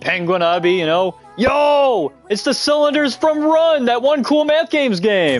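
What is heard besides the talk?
No everyday noise stands out behind the speech.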